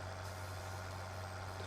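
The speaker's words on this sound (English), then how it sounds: "The truck has arrived." A truck arrives in the Farming Simulator 2013 game, a steady low engine drone that stays constant and fairly quiet throughout, with no talking over it.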